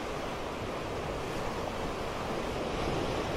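Sea waves wash steadily onto a shore, a continuous close roar of surf with wind noise on the microphone and no voices.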